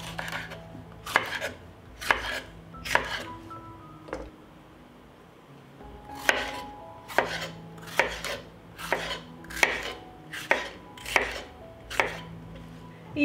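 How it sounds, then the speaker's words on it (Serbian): A knife chops cleaned bell pepper into large pieces on a cutting board, giving sharp, close knocks in uneven bursts, with a short pause before a steadier run of strokes. "Očišćenu papriku iseći ću na krupnije komade."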